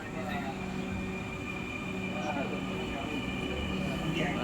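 Metro rail train in Bangladesh departing on a cold winter morning, a steady mechanical hum and rising whine with faint screeching, continuous and fairly close throughout.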